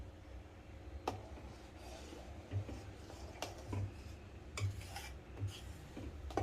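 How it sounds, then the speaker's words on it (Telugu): A spoon stirs paneer masala curry in a pan with the stove off, giving soft scraping rubs and several sharp metallic clinks against the pan, faint and close with no talking. "స్టవ్ ఆఫ్ చేసి తిప్పుకోవాలండి"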